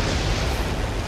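A bomb dropped from a bomber in the War Thunder video game detonates in a loud, dense burst of explosive rumble filling the whole moment, with no talking over it.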